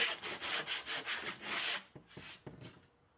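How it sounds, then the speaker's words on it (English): Rhythmic rasping strokes of sanding across sawn plywood edges, loud and close, easing into a few slower, lighter scrapes near the end. "We'll start by sanding the splinters off our sawn edges."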